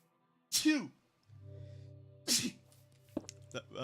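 One person gives a loud, sudden sneeze, then a second sneeze follows about two seconds later, with a low steady hum and light sounds between them.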